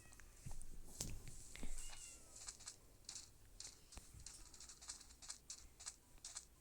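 Cat meowing in a hardcore-mode video game, a few faint short meows in the first two seconds among sparse clicks and ambient game noise, quiet overall with no talk.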